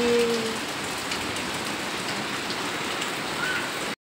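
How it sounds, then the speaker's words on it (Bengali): Heavy rain pours outside a house in a dense, unbroken wash of noise that stops abruptly at the end. "দেখো কি বৃষ্টি হচ্ছে ঝমঝম করে বাইরে"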